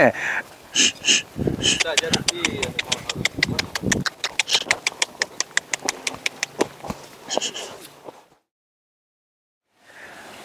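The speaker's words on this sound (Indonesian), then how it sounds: "Naik kuda dong." Horse hooves clip-clop in a steady walking rhythm at a school grounds in Solok, West Sumatra, fairly close, with voices talking over them before a brief silence.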